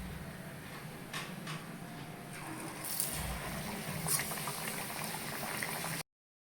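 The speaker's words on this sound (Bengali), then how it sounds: "এবার লুচিটা ভেজে নেব।" Luchi dough fries in hot oil with a steady bubbling sizzle and a few sharp utensil clicks, then cuts off abruptly.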